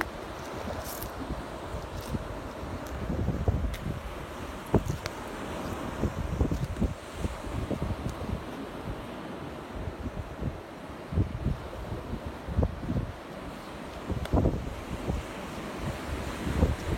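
Strong night wind by the sea roars and buffets the microphone beside crashing surf, a continuous rough rumble with gusty swells throughout.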